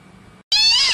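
A cat gives one loud, close meow after a brief pause, preceded by a faint low rustle.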